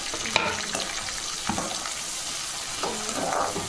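Green chillies and other ingredients for prawn egg curry fry in a pan, a steady close sizzle broken by a few sharp stirring clatters, with no talking.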